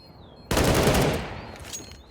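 A burst of automatic gunfire in Counter-Strike: Global Offensive, loud and close, rattling for about a second before tailing off into echo.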